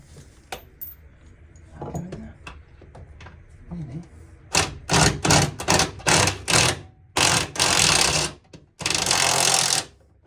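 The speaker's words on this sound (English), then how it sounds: "Power tool saves the day." Several loud mechanical bursts from a power tool driving a bolt on a Hillman Imp rear suspension, each lasting about half a second to a second, follow quieter clinks and handling sounds.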